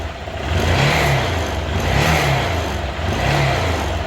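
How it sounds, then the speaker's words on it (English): A Honda CBF 125 motorcycle engine revs up and holds at a raised pitch, loud and close, in three rising pulses with no voices. "as we rev the bike"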